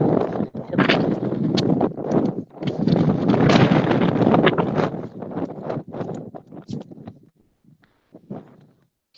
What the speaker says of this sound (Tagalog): Lakas ang hangin kasi ilaw.